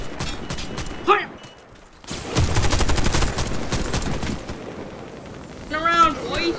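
Bursts of automatic gunfire ring out in the online shooter game Warface, a dense rapid volley lasting a couple of seconds followed by scattered shots, with a voice briefly heard around them.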